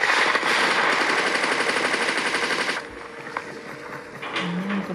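Rapid automatic gunfire from a mobile video game, a dense, loud burst of rattling shots lasting nearly three seconds, then quieter mechanical clicks and game sounds.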